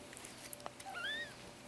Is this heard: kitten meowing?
yes